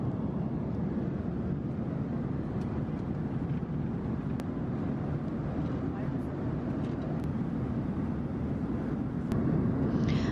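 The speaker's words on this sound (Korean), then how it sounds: "어느덧 비행기가 육지를 지나서 바다 위를 항해하기 시작했어요." Steady broadband roar of an Air Philippines airliner cruising low over the sea, heard continuously from a window seat in the cabin with no break.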